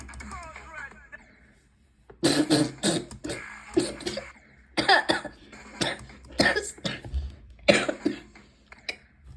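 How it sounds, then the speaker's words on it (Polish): A person coughs repeatedly in short harsh bursts, with brief pauses between fits, close to the microphone after a quiet stretch. "kaszel mam."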